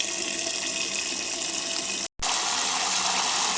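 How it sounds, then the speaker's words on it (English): Water runs from a tap and pours steadily into a pot to cover a salted pigtail, a loud continuous gushing stream with one brief break before it resumes. "I'm going to add some water to cover the pigtail."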